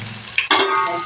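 Curry leaves hit hot oil already holding mustard seeds, cumin and garlic, bursting into a loud, crackling sizzle that starts abruptly and keeps frying steadily, with no voices.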